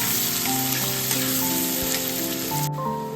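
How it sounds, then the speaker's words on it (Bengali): Four chopped onions sizzle steadily in hot oil, a close, continuous frying crackle for a spiced eggplant dish, with faint background tones and no talk. "এবার আমি পেঁয়াজটা একদম লাল লাল করে ভাজবো।"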